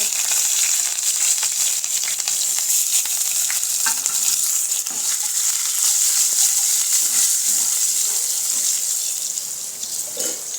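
Dry red chili, star anise and curry leaves sizzling in hot oil for a Kathiyawadi bottle gourd curry, a steady loud crackling hiss that continues throughout.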